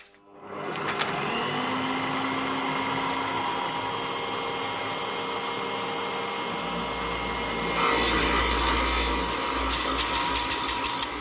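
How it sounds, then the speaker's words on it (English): A Bosch PBD 40 drill press runs with a steady, loud machine whine as the bit grinds into birch plywood, with a deeper rumble joining partway through and the cutting growing harsher near the end. "So I'm just going to drill a couple of holes in this. Got a little bit of birch ply."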